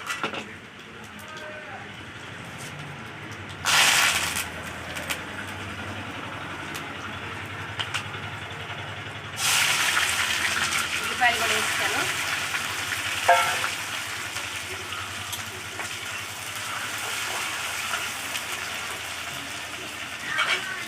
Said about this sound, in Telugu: తాలింపు కాయిపోయిందండి ఇగోండి వేసేస్తున్నాను ఎండుమిర్చి కరివేపాకు